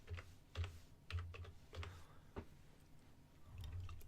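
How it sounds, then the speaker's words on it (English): Quiet keystrokes on a computer keyboard tap out a short word in small irregular bursts, faint and close, with brief pauses between clusters. "if I type in here"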